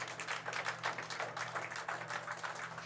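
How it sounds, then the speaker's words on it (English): Crowd of fans outside Guy Lafleur's funeral clapping steadily, a dense patter of applause at a distance, faint and continuous over a low background hum. "But you heard the applause, and I hope you were able to hear through my microphone"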